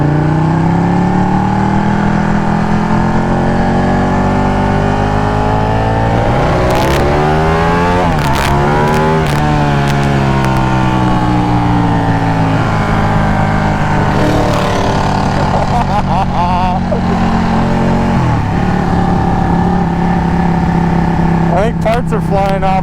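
A loud classic car engine revs hard on the street, its deep tone climbing and dropping through repeated throttle blips for over twenty seconds as people talk over it.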